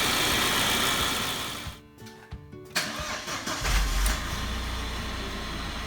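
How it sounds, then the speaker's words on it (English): An Audi/VW Passat 1.8T engine is cranked by its starter, catches with a brief rise in revs, then settles into a smooth, steady idle. It is heard alone, up close. "So we just started it up, and it's running very smooth"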